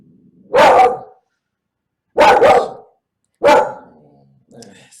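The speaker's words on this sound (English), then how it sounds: "This dog is barking." A dog barks loudly and close by, giving three sharp, separate barks spaced over several seconds, then a softer, shorter yelp at the end, with silence between.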